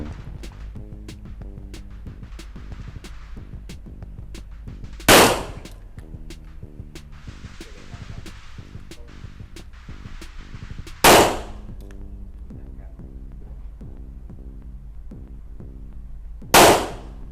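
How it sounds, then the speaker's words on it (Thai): Three loud, sharp pistol shots from a ZEV OZ9 fired at a 10 m target, spaced about six seconds apart, close and crisp against a quiet range hum, no talking. "ผู้ยิงพร้อมนะครับ พร้อมแล้ว เริ่มยิง"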